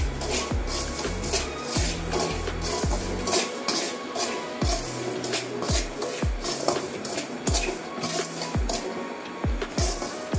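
Upma semolina, a cup of it, is roasted in a pan, with repeated sharp scrapes and clinks of a spoon against the metal in an irregular rhythm and a soft shuffling of dry grains between strokes.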